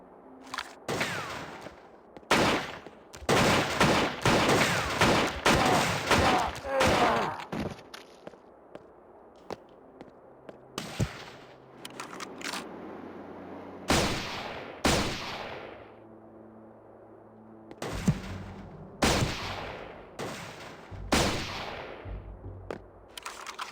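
Loud gunshots from a powerful weapon in Turok Evolution, an opening cluster of rapid blasts followed by separated single shots and short bursts with quieter gaps and faint footsteps between.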